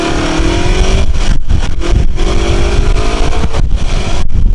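A 1970s-era Kawasaki EL250 motorcycle engine revs loudly and close by, with rising pitch sweeps between throttle blips over a constant rumble and no talking.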